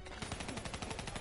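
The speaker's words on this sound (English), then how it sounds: "that's a grenade" Rapid bursts of gunfire and a blast in Call of Duty: Black Ops 3 co-op combat, dense and continuous at close range, filling the whole short moment without clear speech.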